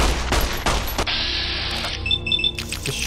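Gunfire in Fallout: New Vegas near Primm, a couple of loud close shots followed by a burst of shots, with game effects and ringing tones afterward.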